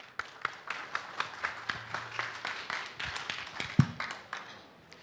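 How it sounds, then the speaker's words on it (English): An audience at an elevator pitch competition gives a contestant a round of applause, many hands clapping quickly and fairly close, rising a little and then fading out over several seconds. "Please, round of applause for Mr. Coven"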